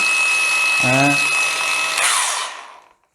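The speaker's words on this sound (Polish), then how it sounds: "Tą tarczę akurat mam założoną na szlifierce, to może pokażę Państwu, jak to wygląda." An angle grinder fitted with a grinding disc spins up and bites into material, giving a high whining, rasping grind that builds and then winds down to silence within a few seconds.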